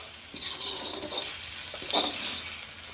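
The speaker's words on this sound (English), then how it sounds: "And now let's give a quick stir." Chilli garlic prawns stirred quickly in a hot pan, giving close, bright sizzling and frying hiss with a few scraping swirls of the spoon.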